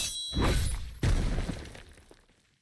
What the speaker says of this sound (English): the next move we have is Earth Shatter. See that?